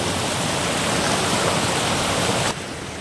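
Swollen mountain stream in Uttarakhand rushes after a cloudburst, a loud, continuous roar of turbulent water that suddenly drops in level near the end, with no voices.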